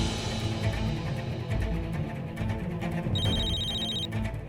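A telephone bell rings in one short burst of about a second, heard over a dense background of music in an indoor drama scene.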